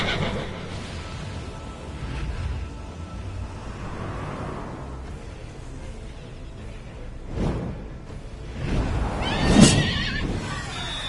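Game ambience on PS4 with a horse whinnying loudly near the end, its neigh rising and falling over a low rumbling background.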